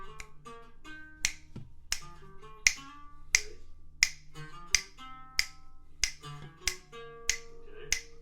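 Finger snaps click crisply on beats two and four, evenly spaced over a soft, low musical backing, keeping a steady pulse throughout.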